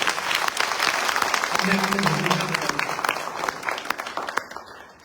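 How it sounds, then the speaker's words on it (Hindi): Sustained audience applause at a Teacher's Day poetry gathering fills the whole stretch, dense and steady clapping that tapers off near the end. "आपको मेरी कविता कैसी लगी? एक बार तालियों से बताइए।"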